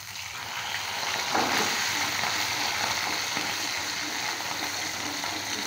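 Pabda fish frying in hot oil in a pan for a fish curry, turned over partway through: a steady, close, broadband sizzle with a brief stir or flip near the start, then continuous crackling hiss.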